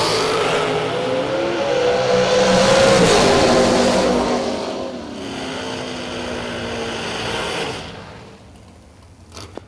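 Drag race cars roar down the strip in a women-only race, a loud engine scream that rises and holds, then fades into the distance.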